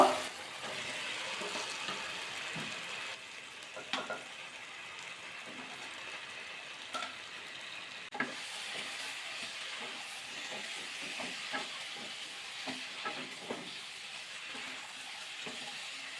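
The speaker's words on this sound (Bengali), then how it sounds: "এবার ফুলকপি আলুটা দিয়ে দেবো দিয়ে একসাথে একটু কষিয়ে নেব" Cauliflower and potato sizzle with spices in a pan, a quiet steady hiss of frying with occasional soft clicks and stirring knocks, no voices present.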